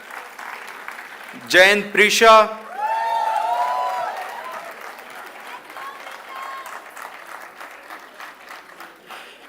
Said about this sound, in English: Kindly keep clapping for those students.